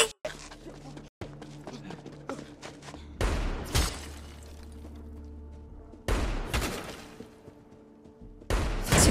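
Gunfire from a Last of Us TV episode comes in several loud, sharp bursts of rapid shots, separated by stretches of rumbling background sound.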